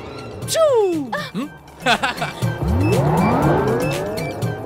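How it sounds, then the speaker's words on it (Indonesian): A speeding car's tires squeal in sharp, sweeping shrieks, mixed with rising engine revs and skidding, loud and close. Speech runs over the noise at points. "Pelan-pelan, ini kan mobil, bukannya roket."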